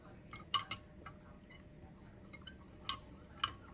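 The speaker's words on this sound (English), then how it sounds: "So I'm stirring the milk." A spoon stirring milk and cocoa ingredients in a pot, giving a few faint, sparse metallic clinks and taps against the side over a quiet background.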